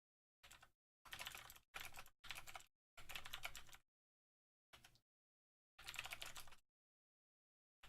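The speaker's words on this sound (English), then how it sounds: "Let me type that." Close, quiet typing on a computer keyboard while programming, with rapid clusters of key clicks in about eight short bursts separated by silent pauses, and no talking.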